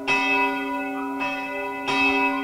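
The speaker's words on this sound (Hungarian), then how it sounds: "ehelyett más modern templomokhoz hasonlóan hangfalakból szól, CD-ről a harangozás" Church bells played from a CD through loudspeakers in a bell tower ring out in three slow, evenly spaced strikes, each tone lingering and fading, with a slightly flat, reproduced quality.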